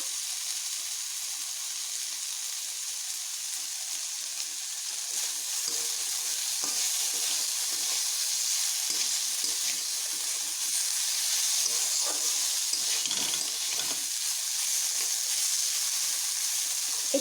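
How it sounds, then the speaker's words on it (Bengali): Pumpkin pieces fry in a pan with a steady, close sizzle and hiss, broken by occasional stirring scrapes and bubbling, no voices. "এইভাবে আরেকটু ভেজে নেব। বেশ নরমও হয়েছে। আর একটুক্ষণ ভেজে নেব।"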